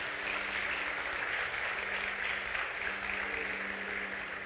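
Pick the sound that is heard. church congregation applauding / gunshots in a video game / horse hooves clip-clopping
church congregation applauding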